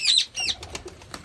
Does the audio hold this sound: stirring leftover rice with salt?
no